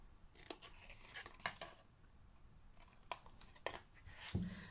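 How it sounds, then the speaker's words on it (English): Scissors snip through papercraft card to remove tabs on a Christmas favor exploding box, a run of crisp close cuts in irregular bursts with quiet paper rustling between, no talking. "Again, just going to cut that across. Remove those tabs."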